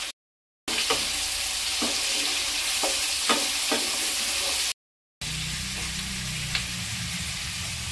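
Tomatoes frying in a pan for sambar dal, a steady close sizzle with a few light knocks of a spoon stirring against the pan, broken by two brief silent cuts.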